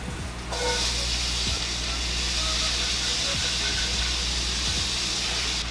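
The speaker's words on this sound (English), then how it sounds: "We'll go ahead and throw our vegetables in." Vegetables tossed into a hot pot right after searing lamb shanks for braising, giving a loud, steady hissing sizzle that swells sharply after a brief thud and holds alone throughout.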